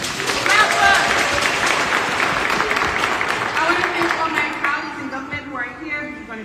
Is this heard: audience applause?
yes